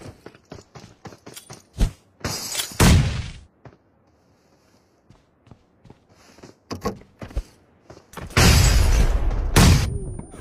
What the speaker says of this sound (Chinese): 这个雷炸了有个耳鸣，绝对可以把他冲了